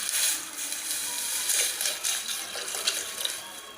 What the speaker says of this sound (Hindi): इसमें डाल देती हूँ दूध